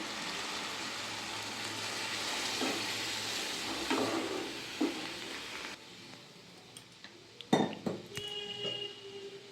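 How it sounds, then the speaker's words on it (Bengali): Water is poured into a cooking pot of red lentils mixed with bottle gourd and potato, giving a quiet, steady hiss for several seconds, followed by a few light clinks of utensils against the pot. "দিয়ে দেবো জল ওর মধ্যে"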